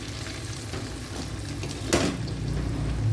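Prawns sizzling steadily in hot oil for a prawn pickle, a dense continuous fry with a brief louder crackle midway and faint stirring underneath.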